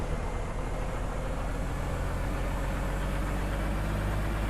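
A heavy vehicle engine idles in Farming Simulator 19, its dense low-pitched rumble holding steady and close for the whole stretch, with no voices over it.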